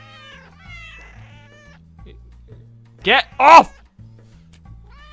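In the Cat Fortress video game, two loud, close cartoon cat meows ring out in quick succession between stretches of a man's speech and soft game music.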